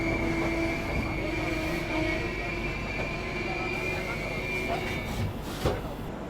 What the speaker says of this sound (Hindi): ट्रेन रुकी रुकी रुकी और रुक गई